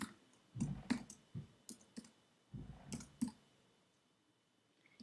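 Bursts of keyboard typing at a computer while entering HTML code, with irregular clusters of clacking keystrokes and short pauses between groups, close and moderately loud.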